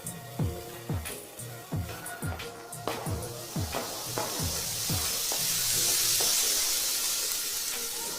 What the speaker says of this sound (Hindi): चुन्नी के बाद बुल्ली एक अनार जलाता है।